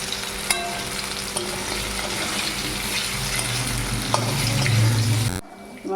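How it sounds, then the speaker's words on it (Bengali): Potato pieces frying in oil in a pan, a steady dense sizzle throughout with occasional stirring clinks, loud and close, cutting off abruptly near the end. "ভাজা হয়ে গিয়েছে আলুগুলো আমি উঠে নিচ্ছি"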